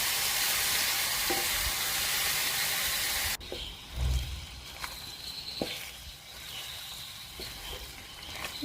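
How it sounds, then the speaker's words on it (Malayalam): Chicken pieces stirred into a Kerala-style curry pan, a loud steady sizzle of frying that cuts off abruptly, followed by quieter scraping, clinks and mixing sounds up close, with no talk. "ചിക്കനിട്ട് നന്നായി മിക്സ് ചെയ്യാം."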